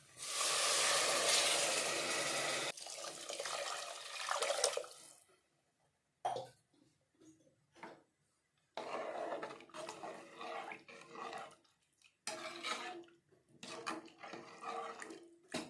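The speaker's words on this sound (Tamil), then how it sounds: "இப்போ நம்ம அரிசிக்கு தண்ணி சேர்த்துக்கலாம்." Water pours steadily into a pot holding one tumbler of soaked rice, about two tumblers in all, with a continuous splashing rush for about five seconds, then a few shorter, quieter pours and gentle clinks.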